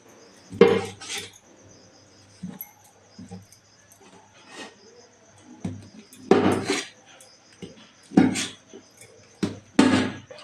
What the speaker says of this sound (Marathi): मी आता हे थंड झाल्या वड्या कापून घेते